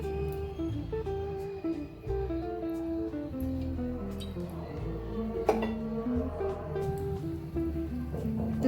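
A small pan and a little spoon clink and scrape as three spoonfuls of oil go in, several light metallic taps and rings spaced out over a quiet kitchen, with someone speaking softly.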